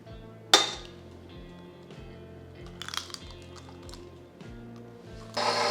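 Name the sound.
adding four eggs to the pound cake batter bowl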